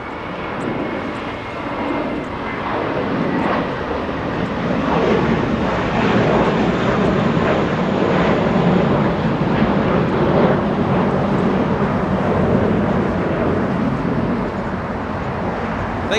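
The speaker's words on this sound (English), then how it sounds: "It's a little A321 getting a move on right now." An American Airlines Airbus A321 departs Los Angeles International Airport with a loud, steady jet roar that swells and holds throughout, broad rumbling thrust close by and alone.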